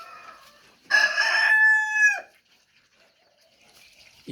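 A Kaftarish-breed rooster crows once, loud and close, a single long cock-a-doodle-doo followed by near silence.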